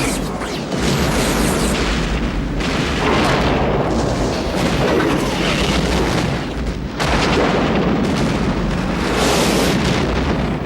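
Loud explosion special effects from a Star Trek film, heavy rolling booms and blasts in quick succession, dense and continuous with sharp new impacts near the three- and seven-second marks.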